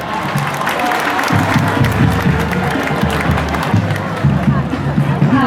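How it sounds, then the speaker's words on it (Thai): Steady crowd applause at the honour procession of the Maejo University sports festival, dense and sustained throughout, with crowd hubbub and a low droning background beneath the clapping. "ขอเสียงปรบมือให้กับขบวนเกียรติยศของมหาวิทยาลัยแม่โจ้ด้วยครับ"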